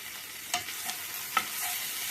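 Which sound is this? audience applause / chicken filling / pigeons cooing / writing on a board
chicken filling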